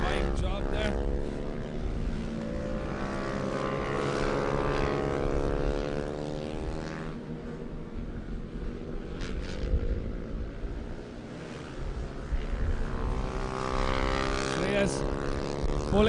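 TVS Apache RTR 200 motorcycles racing into turn 1, a 2022 season race grid. A loud, continuous engine drone with strong harmonics fills the whole stretch, close and sustained, with a commentator's voice running over it.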